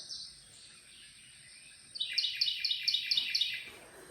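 A wren sings a rapid, bright trill of repeated high notes, starting after a brief faint chirp and running loud and close for about a second and a half against a quiet background.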